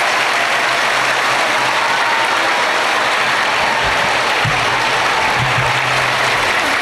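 Loud, sustained applause from a large audience at a Kamaraj birthday celebration in a school or college hall, a dense unbroken wash of clapping lasting the whole stretch with no voices over it.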